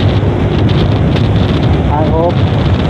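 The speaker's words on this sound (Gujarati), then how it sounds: "પવન બહુ છે." Strong wind buffets the microphone on a Pulsar motorbike ridden at speed in rain, a loud, constant rumbling roar that never lets up, with a brief tonal squeal partway through.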